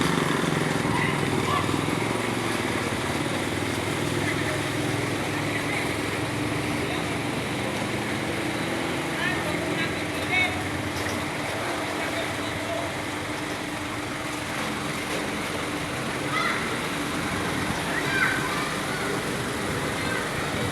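A motorcycle engine labours through typhoon floodwater on a street, a continuous rough drone with sloshing water noise around it throughout, fairly close, while people talk now and then.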